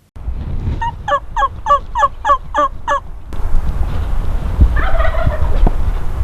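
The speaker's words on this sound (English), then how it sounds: "at least 3 turkeys started gobbling up the hillside in the pines" Wild turkeys gobble up a pine-covered hillside at dawn, one clear run of rapid rattling gobbles followed by fainter, more distant gobbling over steady outdoor background noise.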